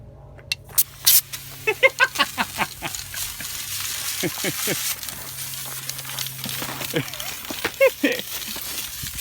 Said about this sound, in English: He's going to put a little screw in it and try and spray with it.